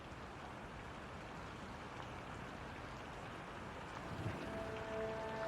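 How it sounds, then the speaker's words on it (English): Heavy rain falls in a dense, steady wash of patter and splashes, with no voices and faint brief tones near the end. "Well, it's raining even harder."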